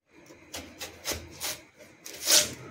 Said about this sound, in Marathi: कलिंगड कट करून घेते मी आणि त्याचे स्लाइस करून घ्यायचे आहेत आपल्याला